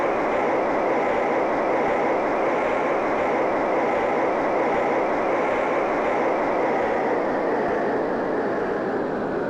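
An electric front-wheel-drive car motor in Car Mechanic Simulator 2021 runs as a steady, smooth, loud whir with an even, unbroken tone and no talking.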